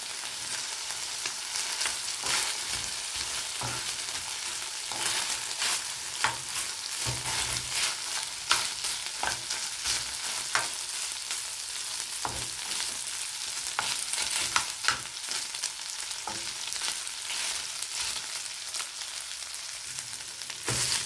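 Chorizo frying in a pan on a Mexican street-food cooking setup, a steady close, loud sizzle with occasional stirring scrapes running throughout, no voices.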